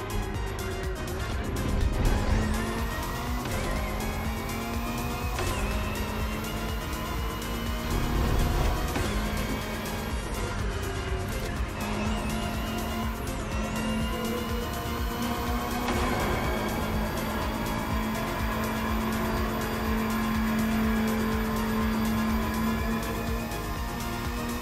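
Race cars in The Crew Motorfest, among them a Ferrari 488 GT3, McLaren Senna GTR, Bugatti Bolide and Lamborghini Essenza, give a steady engine drone with rising and falling revs that runs unbroken for the whole stretch.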